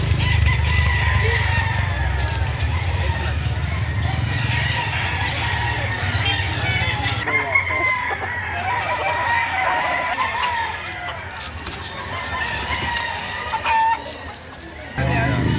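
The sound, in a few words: roosters crowing at gamefowl market, Sweater stag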